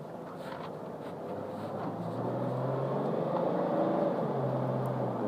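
Lifted Jeep accelerating, a low engine hum that rises and swells steadily over a few seconds, heard from inside at moderate level with no talking.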